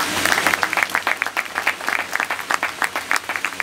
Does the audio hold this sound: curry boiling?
no